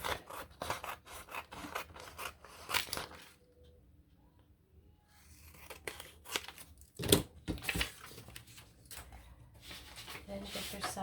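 Scissors trim paper from a junk mail envelope close to the mic in quick repeated snipping and rasping cuts. A short quiet pause falls midway before the cutting resumes.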